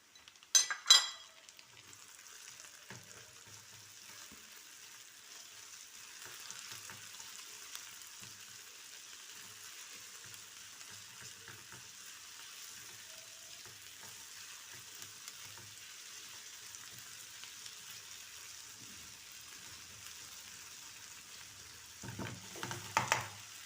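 Tomatoes go into frying onions in a pan, bringing a faint, steady sizzle that runs throughout, with utensil clatter at the start and again near the end.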